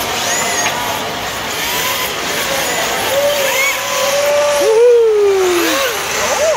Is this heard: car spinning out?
yes